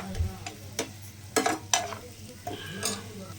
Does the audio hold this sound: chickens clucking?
no